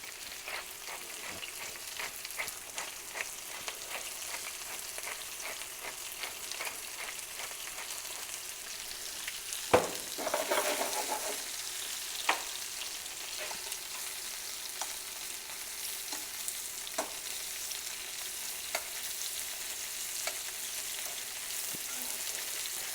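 Lamb for a Moroccan tagine sears in a hot pan, giving a long, steady, moderately quiet sizzle with scattered spitting crackles and one brief louder burst midway; no voices.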